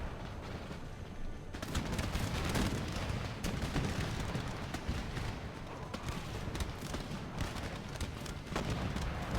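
Massed musket volleys crackle in a pitched battle of Empire: Total War, dense overlapping gunfire rolling on and off with heavy booms, loud and continuous, no speech over it.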